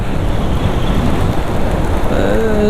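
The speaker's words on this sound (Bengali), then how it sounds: "এই দেখো বৃষ্টি পড়ে টাপুর টুপুর।" Sudden rain falls steadily in a dense, close patter with a little wind, loud and unbroken, and a faint tonal sound rises near the end.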